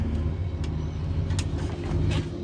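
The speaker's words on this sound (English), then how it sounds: "That's the start button. That starts the motor." A ship's diesel engine runs after its start button is pressed, a steady low rumbling drone with a regular throb and some brief higher clatter, fairly close and without speech.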